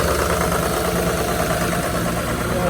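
A 6.0L diesel engine running in extreme cold around minus 28 outside a mall after a failed cold start, a loud close steady rumble with knocking texture throughout.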